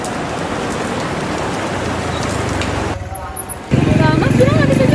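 Steady rain falls in a dense, loud hiss, cuts out briefly, then returns heavier with a low rumble of road traffic beneath.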